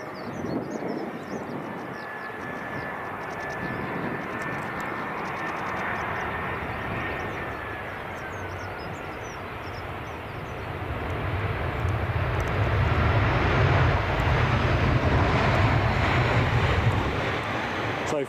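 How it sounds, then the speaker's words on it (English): An EasyJet airliner arriving from Gatwick at Edinburgh Airport, its engine noise a broad steady roar that swells louder toward the end, heard at a distance amid wind, with no talking. "So this is the EasyJet arrival from Gatwick with what we think is an unusual livery"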